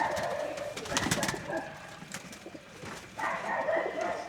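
Panjabi racing pigeons coo in a loft, soft repeated throaty calls rising and falling close by, with faint rustling and a distant dog bark.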